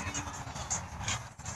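Bird honking like a goose, several nasal honks in quick irregular succession, fairly close and loud over background noise.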